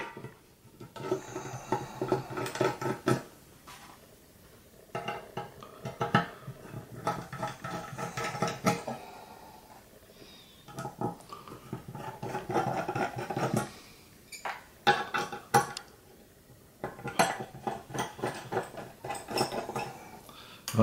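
Screws being backed out of the metal case of a Schiit Mani phonostage: repeated small scraping, clicking metallic handling noises in bursts, close and fairly quiet, with no talking.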